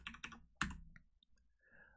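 Several quick keystrokes on a computer keyboard, close and faint, with a couple of sharper clicks followed by quieter taps.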